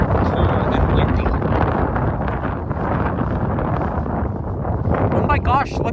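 Cold autumn wind blows through a park during a pumpkin festival, a loud constant roaring buffet of gusts against the microphone that fills the whole stretch, with a faint voice near the end.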